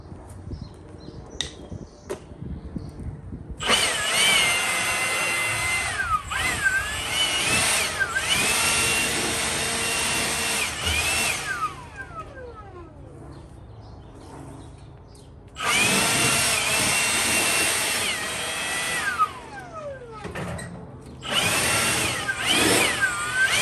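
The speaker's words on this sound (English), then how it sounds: "So we'll get this blown off with the blower and go from there." A blower is blowing off a 1948 Dodge truck, loud bursts of rushing, whining air that start and stop in long blasts with brief gaps and small clunks between them.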